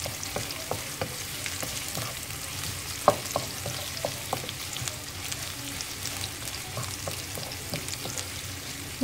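Onions frying in a pan while being stirred, a steady sizzle broken by repeated spatula scrapes and clicks against the pan, no talking.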